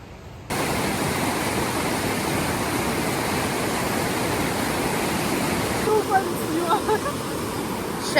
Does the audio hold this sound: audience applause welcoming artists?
no